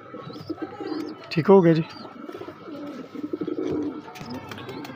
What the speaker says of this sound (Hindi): ये देखिए माशाल्लाह कैसा कबूतर है